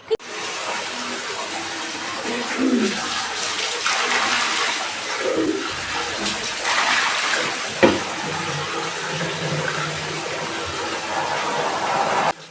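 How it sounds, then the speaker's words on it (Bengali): Fresh local tomatoes being washed in water, with continuous splashing and sloshing punctuated by a few louder slaps, close and fairly steady, no speech. "আচ্ছা এখন আমি এগুলো ধুবো খুব ভালো করে ধুয়ে কাটবো"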